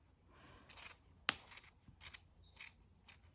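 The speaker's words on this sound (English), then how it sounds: "You're going to need nice and sharp scissors for this one." Several crisp scissor snips cutting yarn, close and distinct, with one sharp cut standing out among a handful of lighter snipping strokes in a quiet room.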